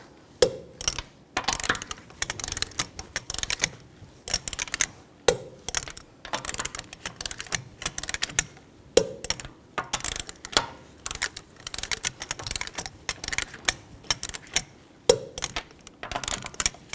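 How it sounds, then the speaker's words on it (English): A torque wrench tightens the lug nuts on the rear wheel of a 2004-2008 Nissan Maxima in a star pattern, giving four sharp clicks spaced a few seconds apart over steady metallic ratcheting and rattling. No voices are heard. "Now torque the lug nuts down to 80 foot-pounds in a cross pattern or star pattern"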